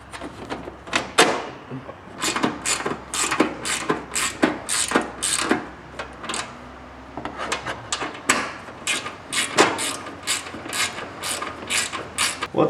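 Bolts being fitted and tightened on an EZGO golf cart's diamond plate front shock shield, with a run of sharp, close ratchet clicks and metallic taps in quick bursts and no talking.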